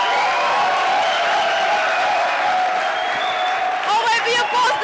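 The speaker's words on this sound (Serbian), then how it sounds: "čujete li ovaj aplauz?" Audience applause fills a packed cinema hall at the Podgorica premiere of the trash comedy film Zlatne čaklje, a dense, steady clapping that swells slightly near the end.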